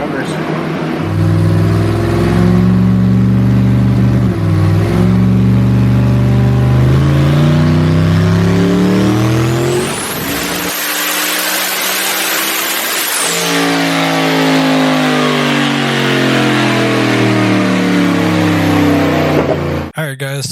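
Tuned car engine on a dynamometer, revving hard through a long pull with a climbing roar and high-pitched whine, then dropping back, loud and close throughout.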